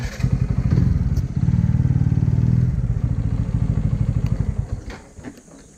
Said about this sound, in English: it was the last time I was getting to ride my Apache